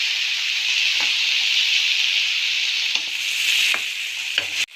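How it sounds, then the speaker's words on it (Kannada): Onion, garlic and three chopped tomatoes fry in a pan, giving a steady loud sizzle throughout with a few scrapes of stirring, close and without voices. "ಈರುಳ್ಳಿ ಬೆಳ್ಳುಳ್ಳಿ ಒಂದು ಅರ್ಧ ಫ್ರೈ ಆದ ನಂತರ ನಾವು 3 ಟೊಮೆಟೊಗಳನ್ನು ಕಟ್ ಮಾಡಿ ಸೇರಿಸ್ಕೊಂಡು ಫ್ರೈ ಮಾಡ್ಕೊಳ್ಳೋಣ"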